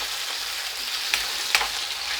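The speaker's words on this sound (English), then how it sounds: "There's a little bit of cornstarch in this meat I'm frying." Cornstarch-marinated beef steak frying in a pan, a steady close broadband sizzle with two brief sharper crackles partway through.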